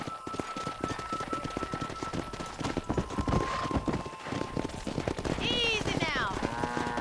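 Horse hooves in Red Dead Redemption clattering in quick irregular clip-clop beats on a ranch, mid-loud and close, with a horse whinny near the end and shouted voices over it.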